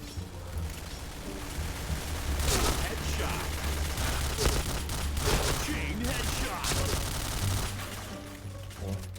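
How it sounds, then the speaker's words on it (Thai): Rapid gunfire in the shooter game Point Blank rattles in quick repeated bursts throughout, fairly loud and dense, while someone talks over the shooting. "แลกมาด้วยการลั่นกระสุนที่ไวนะเพื่อนนะ"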